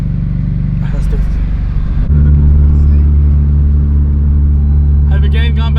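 A Honda Civic Si running on E85 fuel and over-boosting, revving hard through the canyons: a loud, close engine drone that climbs in pitch, drops with a shift, then holds a steady strong tone, with a voice briefly over it.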